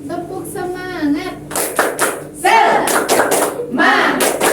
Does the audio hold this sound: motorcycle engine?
no